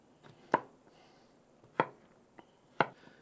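Knife chopping potatoes on a cutting board, three sharp close knocks spaced about a second apart with a faint lighter tap in between, in a quiet room.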